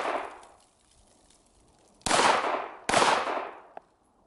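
Two loud, sharp gunshots from a pistol at an outdoor shooting range, an MR920 handgun or an Omni 556 10-inch pistol, each cracking close by and ringing out before fading, with a faint earlier report and a small metallic clink near the end.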